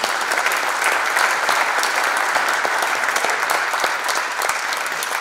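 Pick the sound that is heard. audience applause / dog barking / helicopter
audience applause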